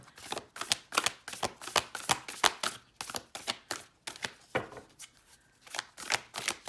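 Tarot cards shuffled by hand in quick rhythmic bursts, a steady series of crisp riffling snaps close up, with a brief pause before the shuffling resumes, and no voices.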